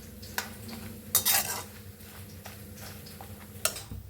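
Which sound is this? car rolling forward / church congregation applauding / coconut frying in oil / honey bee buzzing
coconut frying in oil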